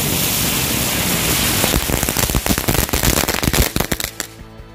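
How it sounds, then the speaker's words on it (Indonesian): A pack of lotus-flower firecrackers goes off outdoors in a loud, dense crackle that turns into a rapid run of sharp pops and bangs, then stops abruptly. "itu dia hasilnya dari mercon bunga teratai"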